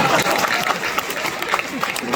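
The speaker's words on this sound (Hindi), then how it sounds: "तालियां बजाई है।" A Hindi poetry gathering audience claps and murmurs in a dense, lively burst, many hands close together with some voices mixed in.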